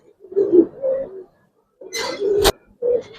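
Giribaz racer pigeons coo up close in three short rolling phrases separated by brief pauses, with a sharp click or flutter near the middle of the second phrase.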